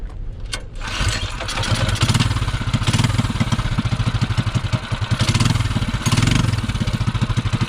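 A Bonanza minibike with a Duromax 208 engine fitted with 1.3 ratio rockers fires up and revs hard on a 0 to 30 top speed run. The loud, rapid exhaust pulsing rises and surges close by.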